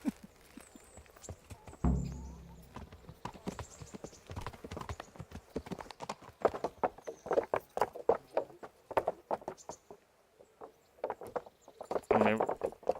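Horse hooves clop in a quick, uneven rhythm as a rider sets off in Kingdom Come: Deliverance, close and fairly loud, with a short snort or whinny early on.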